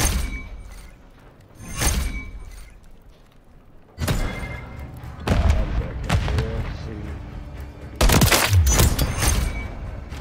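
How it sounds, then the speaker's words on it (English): Gunfire in Call of Duty erupts in several sharp, loud bursts, including a single early shot and then heavy overlapping volleys with booming impacts and crackling rattle, growing denser and louder toward the end. "opening fire."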